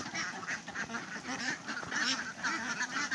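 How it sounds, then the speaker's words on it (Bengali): Egg-laying ducks leaving a farm shed: a dense, steady chorus of quacking from many birds, close and continuous, with no talk. "দেখেন হাঁসগুলো কিন্তু সব সুন্দরভাবে বের হয়ে যাইতেছে"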